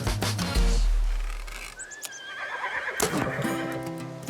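A horse neighs in open backcountry near Jackson Hole in the Tetons, one loud whinny that rises and trails off, with faint clip-clop and a quieter second call near the end.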